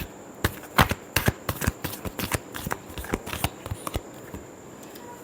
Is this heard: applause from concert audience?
no